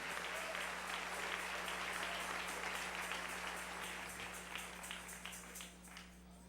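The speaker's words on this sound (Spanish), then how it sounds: "Dale un aplauso al Rey en esta mañana." A church congregation applauds for a sustained stretch during a Sunday morning service, steady dense clapping that holds at an even level and thins slightly toward the end, with a low hum beneath it.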